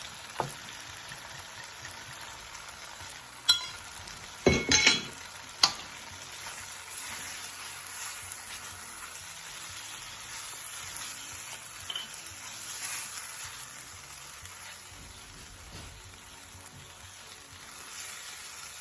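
White wine poured into a hot pan with shrimp for jerk rasta pasta, giving a soft continuous sizzle broken by a few sharp clinks and knocks near the start, then a steady low hiss.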